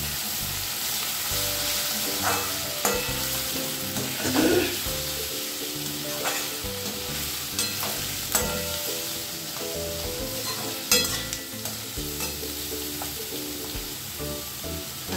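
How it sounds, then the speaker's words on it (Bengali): Chopped onions fry in hot oil in a pan for a Bengali chicken and potato curry, giving a steady, close sizzle that runs the whole time beneath tonal background music. "পেঁয়াজটা ভাজা হবে।"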